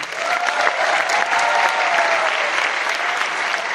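Sustained audience applause at a Hindi-language training session, loud and even throughout, a dense steady patter of many hands with no voices standing out.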